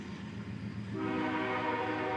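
A CSX freight train rumbles past nearby with a steady, loud roar that swells midway as a horn-like tonal blare joins, continuing without talk.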